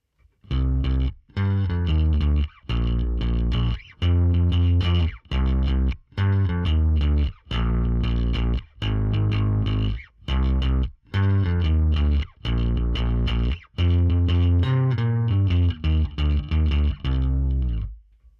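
A gritty, distorted bass tone from a Line 6 Helix with a Callee bass amp model and Callee Power cab plays a run of thick, sustained notes with short gaps between them, loud and upfront.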